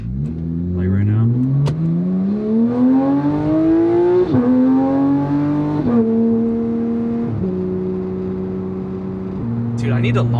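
A straight-piped Porsche GT3 engine accelerates hard from inside the car, a loud rising howl climbing through the revs, then quick upshifts with sharp steps in pitch, with talking in the cabin.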